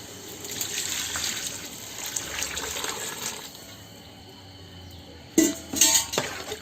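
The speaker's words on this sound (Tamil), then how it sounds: "இப்போ தண்ணி ஊற்ற போகிறேன்." Water poured into a cooking pot for chicken dum biryani in a home kitchen, a steady splashing stream that stops, followed by a few brief louder clinks and splashes near the end.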